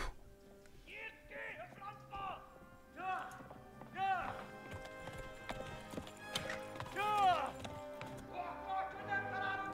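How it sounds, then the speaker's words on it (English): Rhythmic horse hoofbeats in the video game Kingdom Come: Deliverance clip-clop steadily beneath layered game music and voices, with a brief whinny-like tone partway through. "I will ride this horse until it dies"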